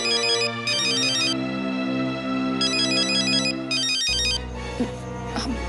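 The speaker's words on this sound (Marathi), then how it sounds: "मंजिरीचा फोन आहे हा." Manjiri's mobile phone rings with a loud, repeating electronic tune made of quick bright beeping phrases. A low musical backing plays beneath it, and the melody changes near the end.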